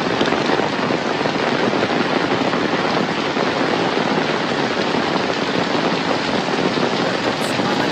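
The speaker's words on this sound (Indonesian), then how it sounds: "walaupun hujan deras kayak gini dan petir menggelegar" Heavy rain pours steadily over countryside, a dense, unbroken hiss that stays loud and close for the whole stretch, with no clear thunderclap standing out.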